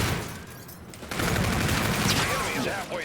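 Sniper rifle gunfire in the shooter game Infinite Warfare, a steady stretch of loud gunfire and action noise after a quieter opening second, with a voice talking underneath.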